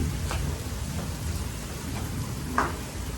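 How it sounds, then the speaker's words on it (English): Steady rain pours down outdoors in a thunderstorm, an even close hiss of drops on surfaces with a few sharper patters, and no one talking. "The rain is happening."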